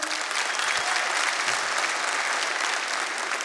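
A concert audience breaks into dense, sustained applause, many hands clapping loudly and evenly throughout with no pauses.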